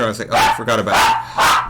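A pet dog barks several times at close range in a home podcast setting, in short loud bursts mixed in with casual conversation.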